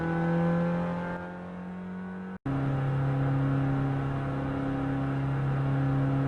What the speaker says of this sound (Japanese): 1台猛スピードで追い上げてくる。